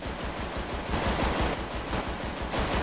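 Rapid gunfire in GTA 5 rattles in a dense, continuous burst of shots at moderate loudness, with no talking.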